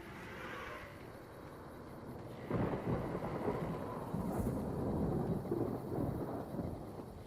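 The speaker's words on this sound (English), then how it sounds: "I love the clear skies and the thunder." Thunder in the game Fallout New Vegas, a deep rolling rumble that swells suddenly and sustains for several seconds over a faint backdrop of rain, with no voices.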